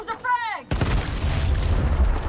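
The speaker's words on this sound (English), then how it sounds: "Here comes a frag!" Frag grenade explosion in the Gears Tactics video game: a sharp, loud boom with a rumbling decay follows a short whistling sweep, all close and dominant.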